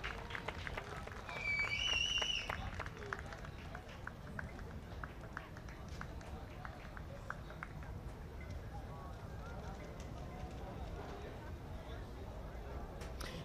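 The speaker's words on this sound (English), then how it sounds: "the crowd here giving warm applause to the players who now cross over" Spectators applauding the players as they cross over to shake hands after a Romania v Georgia blind football match at the European Championships; steady, moderately distant clapping throughout, with a commentator talking over it.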